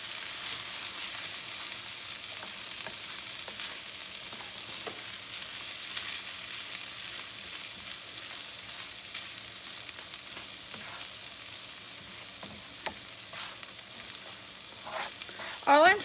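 Frozen rice tossed in a hot frying pan, sizzling steadily up close with stirring and scraping, a louder clatter of the pan near the end.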